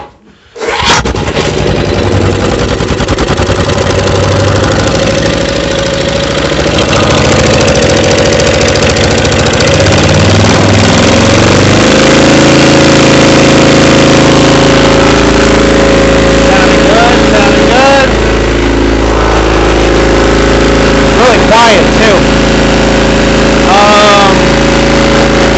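A Honda 1400 EG generator engine catches and runs loud and steady after being choked and primed with ether, a constant close drone with slight shifts in pitch over the whole stretch.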